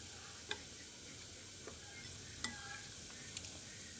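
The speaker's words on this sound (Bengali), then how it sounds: "এবার আমি এর মধ্যে নর্মাল তাপমাত্রার জল দিয়ে সুজি আর দইটাকে ভালো করে মিশিয়ে নিচ্ছি।" A spoon mixing semolina, yogurt and water in a bowl, faint soft stirring with a few sparse light clinks against the bowl, quiet and close with no talking.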